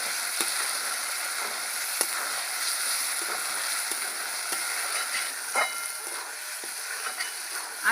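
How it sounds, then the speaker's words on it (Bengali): Boiled potatoes and spice paste sautéed and stirred in a pan for a village-style Bengali duck egg curry, a steady sizzle and frying hiss with occasional scrapes and clinks of the spatula against the pan. "এবার আলু মশলা ভালো করে কষিয়ে নেব।"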